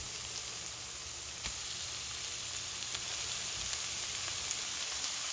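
Steady sizzling and frying in a pot as chicken goes in for tinola, a Filipino chicken soup with bottle gourd; a continuous crackling hiss with a few sharp pops, close and moderately loud, with no talking.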